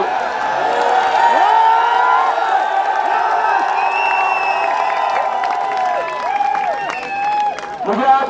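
Large crowd of protesters at Jantar Mantar, a paper-leak demonstration, filling the space with a dense, continuous roar of many voices, scattered shouts and cheers rising throughout, loud and close.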